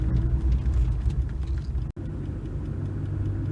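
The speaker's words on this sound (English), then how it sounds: "Right, we shall fire up. Beautiful. Listen to that, it sounds fuel injected." A 1979 Honda Accord 1.6 five-speed idling just after start-up, a steady low mechanical hum with a smooth, even rumble and one brief dropout, heard close with no talking.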